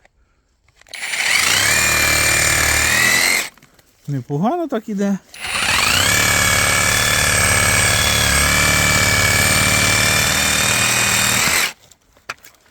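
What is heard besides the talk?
reciprocating saw cutting tree branches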